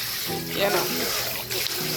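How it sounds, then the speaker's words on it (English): Water and contents from a bowl splash and pour into a kitchen sink, a continuous close running-water wash with gurgling surges and a brief louder gush near the end, no talk. "You can throw it all in the sink."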